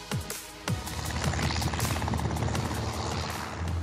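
A light aircraft engine roars loud and steady during a takeoff run from a runway, heard from inside the cabin as a continuous droning hum with no talking.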